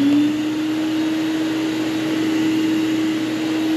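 A DeWalt cyclone dust collector runs with a steady, even motor whine and airy suction roar, constant and close with no pauses.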